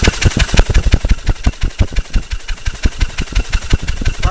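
A two-cylinder generator engine runs on water spark plugs with a loud, uneven chugging beat of close, rapid firing pulses. The rhythm stumbles irregularly, and there is no talking.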